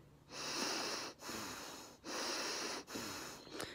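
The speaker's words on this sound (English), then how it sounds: "the breathing gets labored because as I'm breathing in, it's actually getting dragged in and collapsing" Labored nasal breathing through a blocked nose whose nostril collapses inward on each inhale, heard as three long, hissing, wheezy breaths close to the ear with short pauses between them, no talking.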